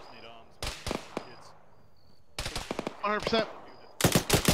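In the Arma video game, bursts of heavy vehicle machine-gun fire rattle out in three separate volleys, each a rapid string of loud sharp shots separated by quieter gaps, with a voice speaking briefly over the firing.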